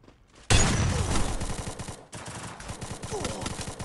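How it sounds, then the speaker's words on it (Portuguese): Gunfire in the mobile game Free Fire: a sudden loud burst of rapid automatic shots, then a second stretch of rhythmic repeated shots, with a voice talking faintly among them. "Cinco malucos trocando tiro"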